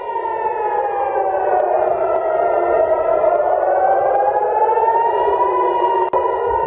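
Air raid sirens wail continuously over Tel Aviv during a ballistic missile attack, a loud, steady tone that slowly rises and falls in pitch with no voices over it.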